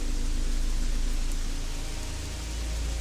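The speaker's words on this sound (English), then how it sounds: "as you can hear in the background, of course, it's raining, which is kind of nice. It's very pleasant rain." Steady rain ambience plays inside a cave in the video game Gothic 3, a dense continuous hiss with a low rumble underneath and no talk.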